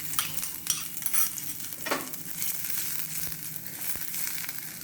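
Mustard seeds and onion frying in a pan, a bright continuous sizzle with crackling pops and a few spoon clinks and scrapes against the pan, fairly close and with no voices.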